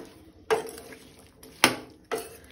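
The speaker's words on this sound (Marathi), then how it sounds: "भाजयेन थोडेशें उदक घालता, मिक्स करून घेवया" A spoon stirring mixed vegetable bhaji of cauliflower, green peas and potato in a pan after a little water is added, giving three sharp metallic clanks and scrapes close by over a quiet background.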